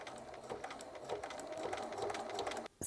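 Domestic sewing machine running steadily while stitching a small zigzag on fabric, its rapid needle chatter continuous and close, stopping briefly at the end before starting again.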